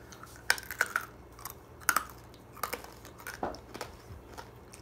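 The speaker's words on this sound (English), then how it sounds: "Who else just like chews on candy canes? I don't suck on them, I chew on them." Hard candy canes being chewed close up, with a few sharp crunching bites in irregular bursts followed by quieter chewing, no talking.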